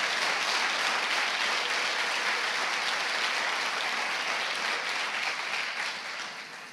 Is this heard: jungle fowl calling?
no